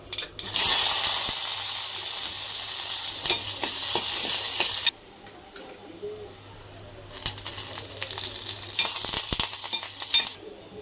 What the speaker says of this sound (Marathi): पाणी घालायचं.